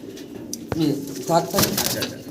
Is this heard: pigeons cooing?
yes